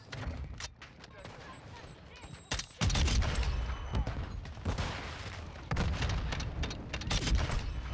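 Gunfire in the video game Modern Warfare II, rapid volleys of shots and sharp bursts in clusters over game background noise, with a player talking in between.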